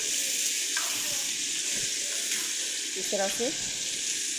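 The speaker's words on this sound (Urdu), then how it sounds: "ہم اس کو فرائی کر لیں گے چکن کو" Boneless chicken frying on high flame in a karahi, a steady loud sizzle and hiss running throughout, with a voice speaking briefly over it.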